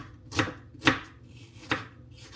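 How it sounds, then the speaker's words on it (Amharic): Onion being chopped with a knife, three crisp separate cuts at an irregular pace, close and clear with no talking. "ሽንኩርታችን እንከትፋለን።"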